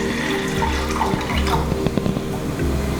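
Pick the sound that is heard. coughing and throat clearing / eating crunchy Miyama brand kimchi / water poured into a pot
water poured into a pot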